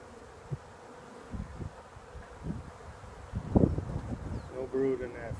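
Honey bees buzzing around an open hive during a late winter inspection, a soft continuous drone under rustling handling noises and occasional speech from the beekeeper.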